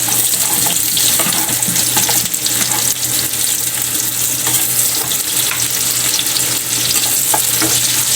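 Garlic and onion sautéing in a pan for ginisang monggo, a loud, continuous sizzle with a steady low hum and some scattered scraping, with no talking.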